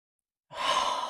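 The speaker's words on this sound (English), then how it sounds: "One more deep breath." A single deep breath during a slow-flow yoga practice, drawn in and let out as a long, soft, airy exhale. It is close and fairly loud, begins after a brief silence, and has no talking over it.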